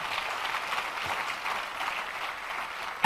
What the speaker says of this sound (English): I told you, clap.